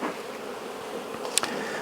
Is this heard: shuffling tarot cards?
no